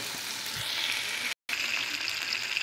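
Beef steak frying in a hot pan as it is rubbed across the surface, a steady close sizzle with a brief cut of silence midway.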